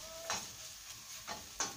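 Faint, crackly sizzling of dried tomato vathal frying in hot oil, with a few brief louder pops standing out over a quiet steady hiss.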